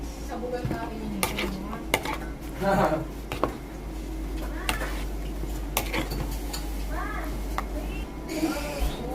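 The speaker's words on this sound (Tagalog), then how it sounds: "Hahalu-haluin na natin." A utensil stirs kinilaw na tuna with coconut milk in a bowl, giving scattered clinks and scrapes against the dish while people talk over it.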